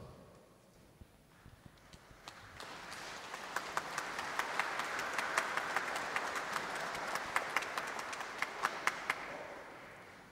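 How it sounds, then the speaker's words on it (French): A church congregation applauds during a healing prayer service for the sick at Saint-Nicolas-des-Champs, scattered clapping swelling into a broad, fairly distant wash of many hands, then thinning out. "Le Seigneur reçoit vos applaudissements avec joie."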